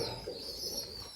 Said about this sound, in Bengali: একটা পায়রা দেখুন